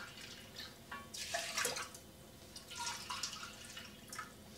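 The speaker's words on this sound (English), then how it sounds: "you're going to be filling it with 2 cups of water when you boil" Water pours and trickles steadily into a pot for cooking grains, a continuous splashing stream with small surges, fairly quiet and heard alone.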